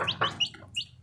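Pet hens and chicks cluck and peep close by, with short rising chirps and a soft clucking note in quick succession.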